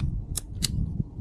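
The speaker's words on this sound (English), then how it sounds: "I have an extra piece of pipe here. So I'm going to cut this guy." A short snip cuts through a piece of well pipe during a pitless adapter replacement, two sharp close cracks sounding over a low background rumble.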